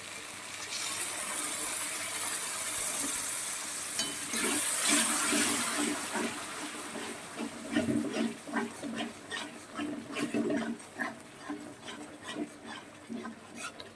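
A little water poured into a hot cooking pan of fish-head curry that has started to stick, a loud rushing hiss and sizzle that settles into bubbling and scattered stirring clatter.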